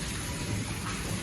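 Steady rain pours down during a downpour in Gujrat, a dense, even hiss of falling water with no pauses, moderately faint and continuous throughout.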